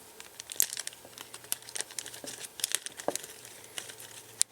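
Paper crinkles and tears in a rapid, uneven series of crisp rustles as it is pulled out of a kit box, close by and fairly quiet, with no voices.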